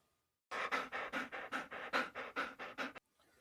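A dog pants rapidly and close up, with about ten rhythmic breathy huffs in a steady burst that then cut off abruptly, surrounded by near silence.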